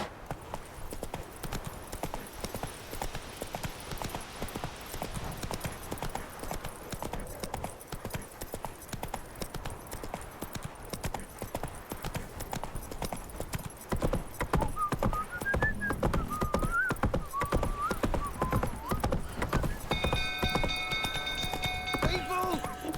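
Roach the horse galloping in The Witcher 3, a constant rapid drumming of hooves that grows louder partway through, with shouting voices and music over it.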